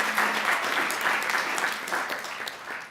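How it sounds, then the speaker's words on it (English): Audience applause at a Unitarian Universalist worship service, steady dense clapping from a whole congregation that carries on for the full stretch before easing slightly at the end. "Another round of applause"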